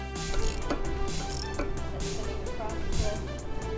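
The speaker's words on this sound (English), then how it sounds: "You want to adjust our wrench." A torque wrench being adjusted during brake caliper work, giving a close, continuous run of rapid ratcheting clicks, loud and mechanical.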